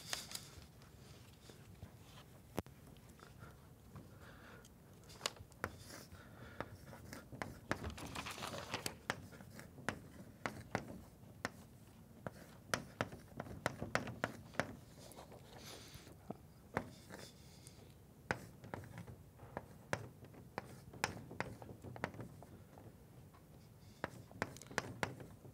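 Chalk or marker writing on a board during a quantum field theory lecture, a steady run of quiet taps and short scratching strokes that continue through the whole stretch, fairly faint in a roomy space with no talk.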